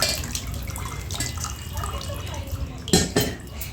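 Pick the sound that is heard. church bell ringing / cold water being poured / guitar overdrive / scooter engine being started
cold water being poured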